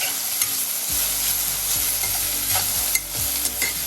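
Coriander leaves sautéing in a pan for thokku, a loud continuous sizzle close by with occasional soft scrapes of stirring.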